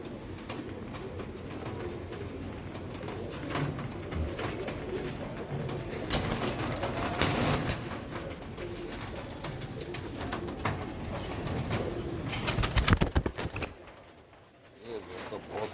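Royal Teddy pigeons cooing in a loft, soft repeated coos mixed with wing flutters and bird calls in a busy, close setting, with someone talking over them at times.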